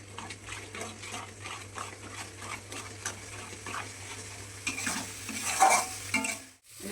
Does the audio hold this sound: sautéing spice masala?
yes